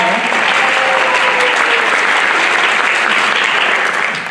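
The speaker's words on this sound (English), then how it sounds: "So round of applause for Ben as well." Sustained applause from a sizable crowd at a spring choir concert, loud and dense, holding steady for a few seconds before tapering slightly at the end.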